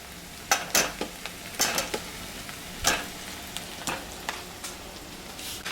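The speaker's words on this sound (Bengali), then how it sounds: "এবার আমি আলুগুলো দেবো ছেড়ে" Potatoes added to already-fried onions in a pan for a home-cooked soybean and egg dish, with stirring and scraping clatter over a low sizzle, a series of sharp irregular strikes and crackles.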